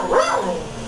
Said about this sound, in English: He just keeps barking over and over again.